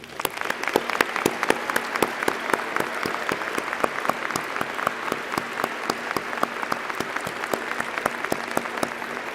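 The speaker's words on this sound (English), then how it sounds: "Please join me now one more time with a round of applause." Sustained applause from a seated audience at a university College of Education convocation, dense even clapping from many hands throughout, loud and without pause.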